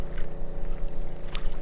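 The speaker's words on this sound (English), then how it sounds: "If you listen past the boat, you can hear the waves" Lake Norman water laps against a boat in a continuous low wash, with soft splashes rising briefly above the steady rumble.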